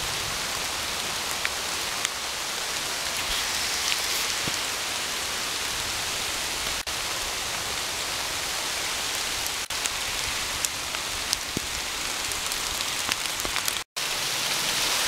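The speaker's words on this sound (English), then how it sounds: "it's raining pretty heavily now" Heavy rain pours down steadily, a dense hiss of drops striking surfaces close by, unbroken for the whole stretch with no voices.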